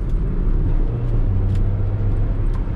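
A 2016 Toyota Etios Liva drives at about 75 while downshifting, its engine a loud, steady low drone mixed with road and cabin rumble, the pitch shifting slightly midway.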